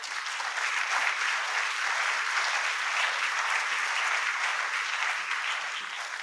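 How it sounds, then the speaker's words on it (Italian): Sustained applause from an audience at a book presentation, a dense, even wash of clapping that holds steady throughout. "Un applauso di incoraggiamento."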